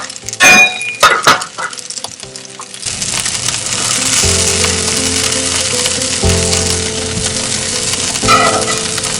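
Snapper fillet skin fries in a hot pan and is pressed down with a fish spatula: a few metal clinks and scrapes, then a loud, steady sizzle that holds close and continuous.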